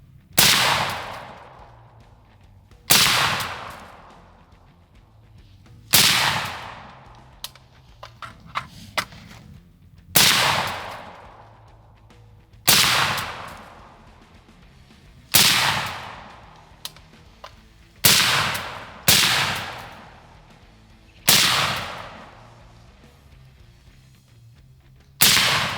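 An 11.5-inch VKTR VK-1 piston AR rifle fires 55-grain FMJ rounds outdoors at a range, with about ten loud, sharp single shots spaced a few seconds apart, each followed by a decaying echo.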